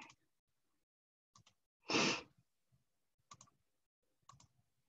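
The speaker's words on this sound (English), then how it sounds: "I'm clicking the wrong buttons here." Computer mouse buttons click a few times, faint and widely spaced, in a quiet room, with one short breathy noise burst between them and no talking.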